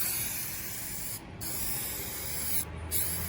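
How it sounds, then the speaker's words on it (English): Spray adhesive hisses continuously and close by onto a truck headliner's foam, with two short gaps where the nozzle is released and the spray then resumes. "I just simply spray more adhesive on the foam"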